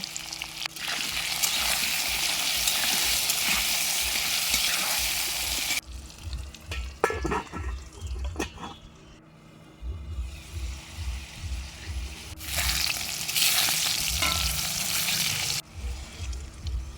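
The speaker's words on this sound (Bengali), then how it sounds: "আমি এখানে কেটে রাখা আলু আর পেঁপে দিয়ে নুন হলুদ দিয়ে ভালো করে ঢেকে ঢেকে লাল লাল করে ভেজে নেব" Cut potatoes and papaya with salt and turmeric frying in mustard oil in a pan that is covered at times, a loud steady sizzle that drops to a muffled hiss with clinks and bubbling when covered, then swells again.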